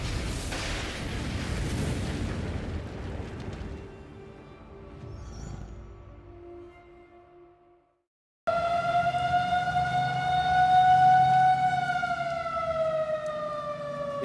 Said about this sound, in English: This is sirens going off.